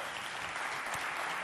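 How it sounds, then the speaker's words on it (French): Spectators at a youth competition applaud a jury member as he is introduced, with loud, sustained clapping from a large crowd that keeps a constant level from start to finish. "on l'applaudit bien fort"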